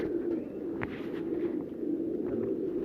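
Pigeons softly cooing in a low, continuous murmur, fairly faint and close, with a brief sharper sound near the start.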